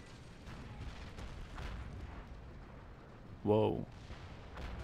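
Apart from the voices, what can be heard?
artillery fire and explosions in a video game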